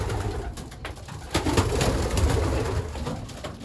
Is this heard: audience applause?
no